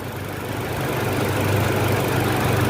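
A petrol car engine idles steadily and loudly, running on injector cleaner fluid as it begins to run out, with a low uneven rumble that hints at misfiring.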